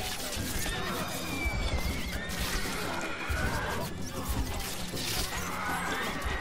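Horse archers' horses neigh amid a battle in the video game Stronghold Crusader 2, with repeated whinnies over clattering hooves and crashing impacts in a dense, steady mix.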